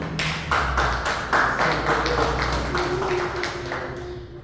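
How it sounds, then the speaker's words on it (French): A church congregation at Mass claps in a steady rhythmic beat for the priest, sharp regular claps over a soft sustained tone. "Veuillez donc applaudir pour notre Père"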